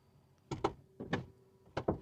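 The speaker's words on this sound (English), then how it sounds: "I just give it a push, beeps twice, and a hatch comes down" A car's powered rear hatch closes after a push, sounding as a series of close, sharp mechanical clunks and whirring thumps in three bursts, with a faint electronic tone in between.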